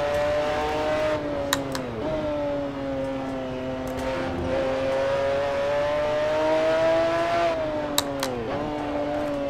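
A McLaren F1 GTR engine in the Assetto Corsa racing game drones loudly at Brands Hatch, its pitch climbing and then dropping sharply through several downshifts, each gearchange cutting in with a brief crackle, with no one talking.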